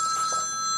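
A telephone rings during an office breakfast meeting at a real estate agency: steady high-pitched electronic ringing tones held across the short moment, fairly loud and with no talk over it.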